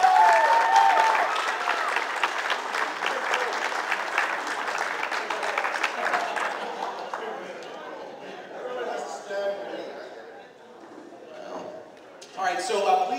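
Audience applause and cheering at a Halloween film reunion Q&A at a horror convention, a sustained crowd ovation that gradually thins out, with scattered voices and whoops, then a fresh burst near the end.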